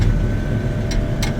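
A tractor engine runs at high RPM during corn chopping at harvest, a steady loud drone with a constant tone, close by and without break.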